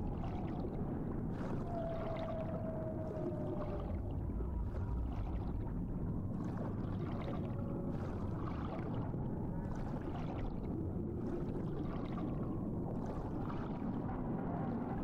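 Steady underwater-style sloshing and low rumbling water after a character is thrown into the sea in a video game, a constant muffled wash with faint tonal calls drifting through, with no talk.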